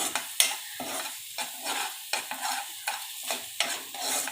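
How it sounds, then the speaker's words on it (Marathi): Chhole masala with red chili powder being sautéed in a pan, a spoon scraping and stirring in steady, repeated strokes over a soft sizzle, close and clear with no talking. "छोले मसरं टाकले आणि व्यवस्थित असं परतून घ्यायचे दोन तीन मिनटं"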